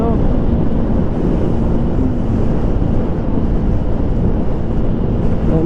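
Hyosung GD250R motorcycle cruising at 72 mph on a rough road, steady loud roar of wind buffeting the microphone with engine drone underneath, continuous throughout with no talk.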